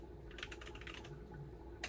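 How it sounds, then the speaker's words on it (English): Typing on a computer keyboard while entering song details for a thrift store USB turntable, a steady run of close, soft key clicks over a low constant hum. "We'll start typing."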